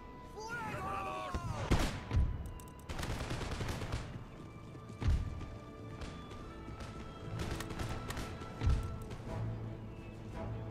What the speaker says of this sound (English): First volleys.